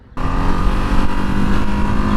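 A Ducati Streetfighter V2 motorcycle rides a closed road, its engine bursting in loud and close after a brief quiet moment, then holding a steady, strong drone.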